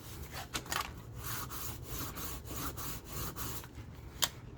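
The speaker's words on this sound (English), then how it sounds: "I think I might want to just give that flap just a little bitty rub" Gentle repeated rubbing on a paper flap of a handmade four-panel folio, a series of soft brushing strokes close up and fairly quiet, with one sharper tap near the end.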